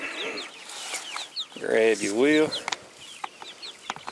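Farm chickens cluck in a series of short calls, with one louder drawn-out squawking call in the middle, close to the microphone while someone speaks briefly.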